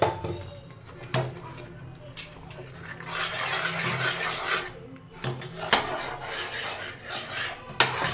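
A pot of ghee mixture is stirred without pause, a spoon scraping and knocking against the bottom in uneven strokes with a few sharper clinks, close by, while a voice speaks intermittently over it.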